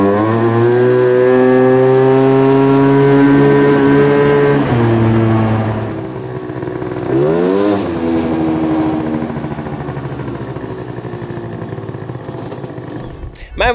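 A repaired go-kart engine runs close by with steady harmonic drone for about five seconds, then its pitch dips and swoops as the throttle changes before settling into a rougher idle.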